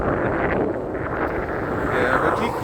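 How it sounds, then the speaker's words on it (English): Cold wind gusting steadily outdoors in snowy Denali at 19 degrees, a loud, continuous broadband rush buffeting the microphone throughout with no clear pauses. "you can probably hear the wind blowing"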